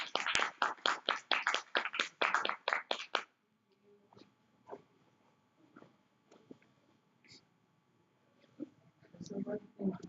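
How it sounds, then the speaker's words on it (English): Close, crisp clapping from a small group at a research presentation: a quick run of about a dozen sharp claps for three seconds, then near silence with faint, distant voices. "All right, let's clap."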